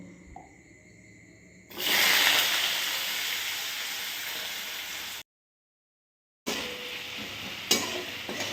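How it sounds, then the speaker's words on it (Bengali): Sliced potatoes and onions hit a hot pan and burst into loud, steady sizzling, which cuts out briefly and then resumes with stirring scrapes. "শুধু এই যে আলু পেঁয়াজ যেগুলো কেটে রেখেছি এগুলোই শুধু ভেজে দেবো"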